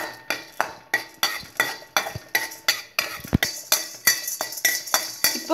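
Chana dal and asafoetida powder roast in a pan for idli podi, while a metal spoon knocks and scrapes against the pan in a quick, regular rhythm of close clinks with no voices.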